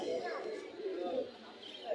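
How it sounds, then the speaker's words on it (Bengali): Pigeons coo in soft, low, rolling bursts at a busy pigeon market in Bangladesh, close and continuous over a brief span with crowd murmur and voices around. "অনেক সুন্দর একটি কবুতর।"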